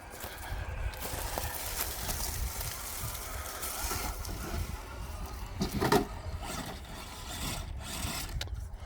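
An RC4WD crawler on Milestar Patagonia tires driving a short rocky trail course with loose surfaces, giving steady crunching and rubbing over gravel and rock, with a brief louder scrape near the middle and no talk.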